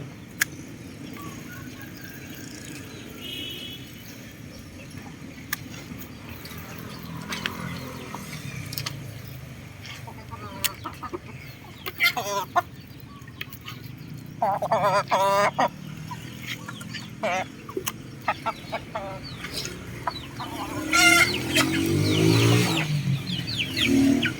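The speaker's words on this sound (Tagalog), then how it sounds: "Ganyan lang yung pagpapakain ng manok." Chickens being fed at a backyard poultry pen cluck and squawk in scattered bursts, growing busier and louder toward the end, with occasional honking fowl calls mixed in.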